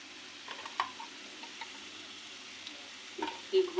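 Chicken frying in ghee in a pan, a faint low sizzle under scattered soft clinks and scrapes of stirring, with a few louder clatters toward the end.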